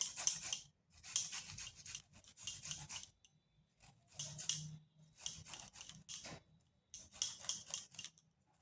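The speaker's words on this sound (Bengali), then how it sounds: "আদাটাকে গ্রেট করে দিচ্ছি।" Fresh ginger, about an inch long, being grated by hand on a kitchen grater while a vegetarian potato snack is prepared: bursts of dry rasping strokes in repeated rhythmic runs with short pauses between, close and fairly quiet, with no talking.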